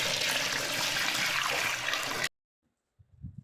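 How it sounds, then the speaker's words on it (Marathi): Clean water is poured steadily into a container of settled wheat starch, a full splashing gush that stops abruptly, followed by faint rustling. "याच्यात मी दुसरं चांगलं स्वच्छ पाणी टाकते"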